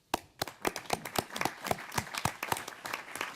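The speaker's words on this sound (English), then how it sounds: "I think we really ought to give him a good round of applause." A small group claps together in quick, evenly spaced beats, a short burst of applause heard close up.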